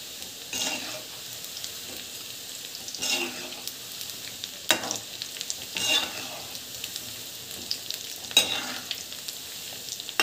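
Gulab jamun frying in hot oil give a steady, close sizzle, with recurring bursts of louder bubbling and scraping as they are stirred and turned, and no one speaks.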